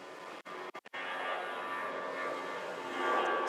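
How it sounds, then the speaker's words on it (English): Airplane passing overhead outdoors, heard as a faint, distant, steady engine drone that swells slightly toward the end, broken early on by a few brief dropouts. "Another plane."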